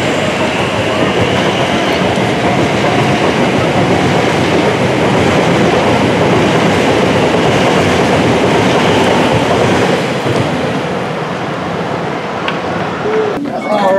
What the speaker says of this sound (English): here's our next train just arriving now to head back into the central core section